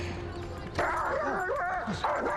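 A dog in a Legends of Tomorrow TV scene yips, barks and whimpers close up in short, strained bursts over background sound.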